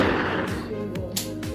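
A sudden gunshot in a horror film scene is fired at a captive man's pet crow, a sharp crack over a low rumbling soundtrack, followed by a couple of brief percussive bursts.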